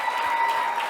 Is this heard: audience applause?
yes